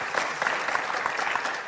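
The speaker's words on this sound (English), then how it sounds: "Let's give Kitty a round of applause, shall we?" An audience applauds a guest presenter of a folk albums chart show, a short steady patter of clapping hands at moderate distance with no voices on top.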